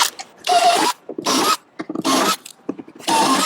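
A power drill bores out rivets along galvanised metal cappings in four short, loud bursts with brief pauses between them.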